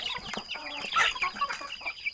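Fighting rooster recovering after an injected Newcastle disease vaccine, giving a string of short clucks and throaty calls, close and fairly loud over steady background noise.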